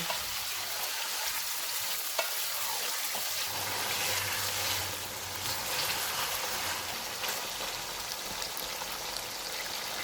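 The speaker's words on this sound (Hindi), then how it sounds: "एक किलो चिकन डालेंगे। चूल्हे को मीडियम रखेंगे और चिकन का कलर चेंज होने तक पकाएंगे।" A kilo of chicken sizzles and fries in a pot over a medium flame, a steady broadband crackle that runs the whole time with occasional stirring, with no voices.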